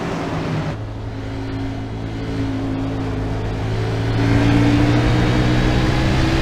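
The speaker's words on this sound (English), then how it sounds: "ride on the in car with 27 of Duchesne, just so we can hear that engine roar." A race car engine roars steadily from inside the cockpit during a race at Gateway, a loud, constant drone that swells louder toward the end.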